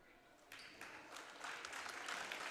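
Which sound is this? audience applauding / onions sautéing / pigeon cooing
audience applauding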